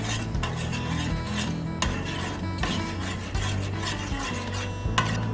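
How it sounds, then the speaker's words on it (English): A spoon stirs gelatin dissolving in liquid in a pot over medium-low heat, giving repeated scraping, rasping strokes against the pot bottom in a steady rhythm, close and fairly loud. "Stir it while it's heating up."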